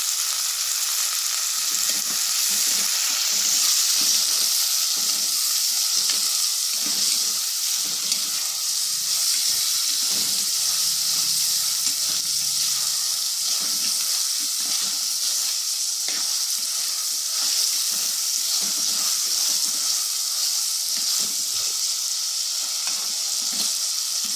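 Onions, green chili, tomato and curry leaves fry in a pan for a Tamil chicken kulambu, giving a loud, steady sizzle and crackle that runs unbroken throughout, with occasional stirring.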